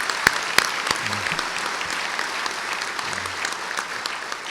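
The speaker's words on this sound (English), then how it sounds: "I'd love for us to give them a round of applause" An audience at a city's State of the City address claps steadily for a few seconds, dense applause with a couple of sharper claps standing out early on.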